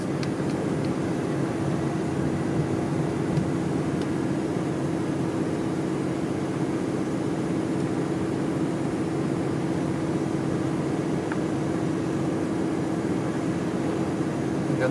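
A Ram 3500 dually with a 5.9 Cummins diesel slowing under a Banks exhaust brake with no load, heard from inside the cab as a steady, continuous low drone and road rumble.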